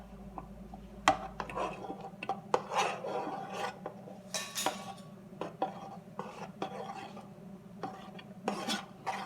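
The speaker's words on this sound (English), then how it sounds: "You want to make sure you stir it constantly while it's boiling." Boiling, thickening razzleberry pie filling stirred constantly in a pot for canning, heard as scraping and rasping of a utensil against the pot in irregular strokes, close and moderately loud, with no talk.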